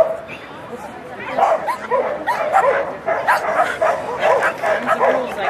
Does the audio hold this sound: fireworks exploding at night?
no